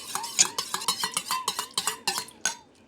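Washing soda solution stirred in a bowl, a quick run of soft scraping and clinking strokes, about a dozen, close and clear with no talking.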